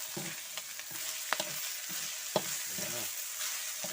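Eel stir-fries in a hot pan with a constant hissing sizzle, broken by several sharp scraping strokes of a spatula at irregular intervals.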